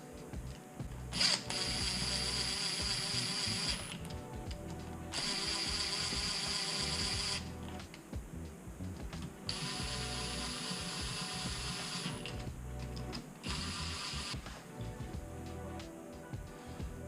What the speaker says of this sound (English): run these down a bit with my fingers first in the socket